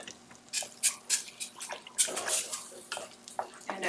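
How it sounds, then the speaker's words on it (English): Water splashes and drips into a cooking pan while shahi paneer cooks with cashew, in short uneven bursts with quiet gaps between them. "I'm going to add quick little water"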